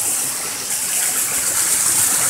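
A small waterfall spills over rocks into a little pool along a trail beside a river, giving a steady, loud, broadband rush of flowing water that stays continuous throughout with no talk.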